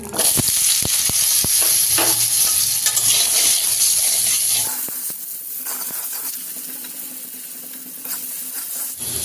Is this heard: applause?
no